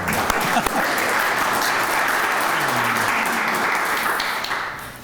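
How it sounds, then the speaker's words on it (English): Sustained applause fills the room at a Springfield police promotion ceremony, with dense, even clapping from the crowd throughout. "I feel like we should clap right there."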